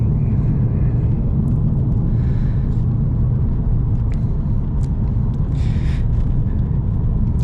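Holden VS Series III Statesman V8 rumbles steadily from inside the cabin while driving, a continuous low engine drone with road noise and no talking.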